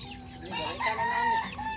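Several chickens cluck and squawk in a continuous, fairly loud flurry at close range, with no talking.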